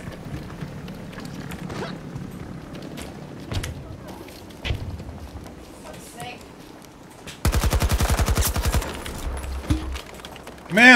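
Rapid automatic gunfire in Battlefield, a fast rattling burst of evenly spaced shots lasting a few seconds, loud and close, after quieter clicks and scattered mechanical noises.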